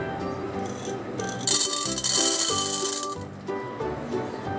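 Corn kernels poured into oil in a pressure cooker to make popcorn: a rattling, clattering pour lasting under two seconds, with gentle music underneath.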